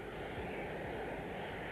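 A Handley Page HP.115 research aircraft flies past at the Farnborough air show, its engine producing a steady, broad, distant roar with faint, even intensity throughout.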